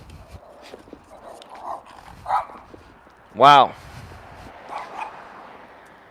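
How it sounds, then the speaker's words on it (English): A small dog of about eight or nine pounds, walked on a leash, lets out one sharp, high yelp, with fainter yips around it and a person speaking nearby. "That lady's walking her dog, little like 8-pound, 9-pound dog."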